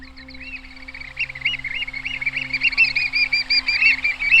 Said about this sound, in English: Oyster catchers being very noisy.